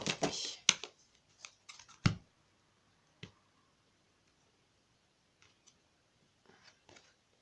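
A deck of tarot cards is cut by hand, producing a few sharp, crisp card slaps and light shuffling clicks close up, followed by scattered faint ticks in quiet.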